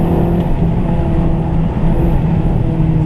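A Renault Clio RS 197 engine drones loudly and steadily from inside the car as it pulls through second and third gear on a country B-road, a continuous cabin roar with no speech over it.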